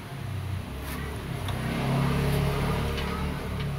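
A motorcycle engine starts on the electric starter and settles into a steady mid-pitched idle that swells slightly partway through, heard up close.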